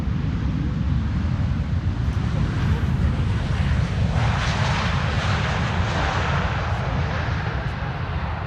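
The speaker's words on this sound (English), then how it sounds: "This is the Corendon World to Fly A350 arriving from Willemstad," A Corendon A350 airliner arriving at Amsterdam Schiphol produces a steady, broad jet roar that swells slightly as it passes, with a heavy low rumble. Faint talking may sit beneath the engine noise.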